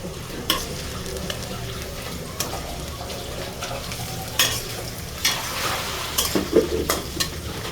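Onions and chilies frying in a pan over a full flame, with a steady low sizzle broken by several sharp stirring scrapes and clatters, no talking.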